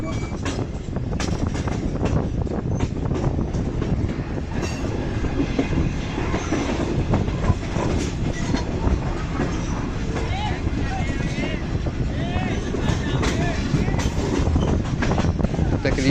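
Green Line Express passenger train rolling along between Rawalpindi and Lahore, heard from inside a business class car: a steady, loud rumble with rhythmic clickety-clack of wheels over rail joints throughout, plus occasional light squeals.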